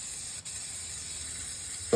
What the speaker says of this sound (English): I'm gonna spray the edges with cooking spray.